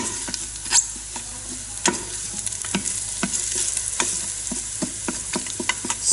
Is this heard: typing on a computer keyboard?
no